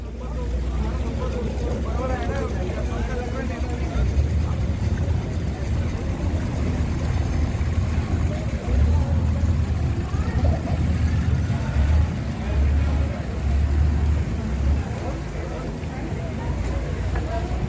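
A Colaba passenger ferry pulls in at Mora Jetty in Uran, Navi Mumbai, its steady low engine rumble churning on throughout with a washing of water and a background murmur of voices.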